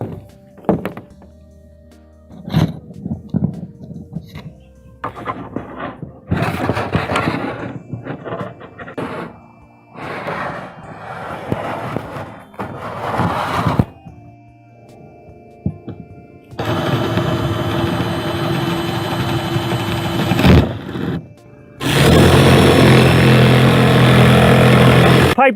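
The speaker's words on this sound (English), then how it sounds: "And then I'll cut it out with my jigsaw." A jigsaw cuts a circle through a tiny house roof. After scattered knocks, thumps and handling noises, two loud, steady buzzing bursts of cutting follow near the end, close by and dominating the sound.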